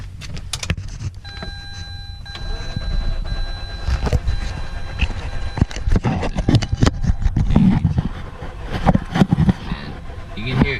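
A Mazda RX-8 rotary engine with fouled plugs, long unstarted, cranks and tries to catch, giving repeated uneven churning bursts and knocks close by that build toward the end, mixed with clatter and some voices.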